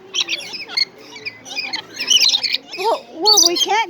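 A zoo bird at the Dallas Zoo squawks loudly and repeatedly during a feeding, harsh close calls in bursts with people talking in between.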